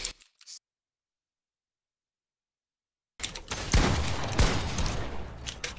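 Pump shotgun fire in an arena video game, a dense, loud burst of blasts and clattering action sounds rising after a stretch of near silence, with a brief noisy flutter at the very start.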